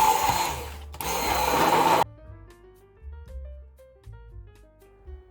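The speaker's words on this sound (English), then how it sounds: "If your kaya does curdle a bit, and it's very common with homemade kaya, then give it a whirl with a stick blender" A stick blender whirs loudly through homemade pandan kaya for about two seconds, then cuts off, leaving quieter clinks and kitchen sounds.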